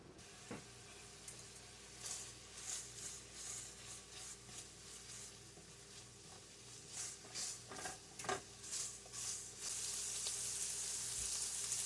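Scallops frying in a pan with freshly added butter, a soft close sizzle with bursts of spattering crackle and occasional pops, building to a louder hiss toward the end, with no speech.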